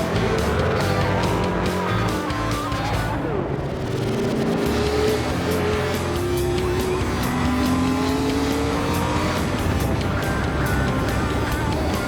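Historic racing cars, Group C and classic endurance prototypes such as an Alfa 33 and Ferrari 512, race at Spa-Classic; loud sustained engine roar with rising and falling revs as cars pass, plus tire noise, continuous throughout.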